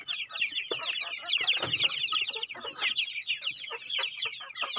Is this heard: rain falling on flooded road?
no